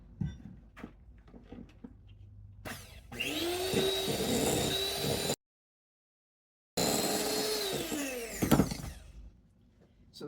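An electric mixer whirs steadily while creaming butter, powdered sugar and vanilla into Mexican wedding snowball cookie dough, in two loud close runs separated by a short gap, with light clinks of handling before and after.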